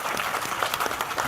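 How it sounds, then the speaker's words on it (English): Conference audience applauding after a panel remark, a steady patter of many hands clapping at moderate level with no speech over it. "I think that deserves an applause."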